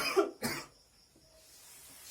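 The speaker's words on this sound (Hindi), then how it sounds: "सॉरी थोड़ा खांसी हो गया है।" Two quick, close coughs from a man teaching a math lesson, sharp and breathy, followed by quiet room tone.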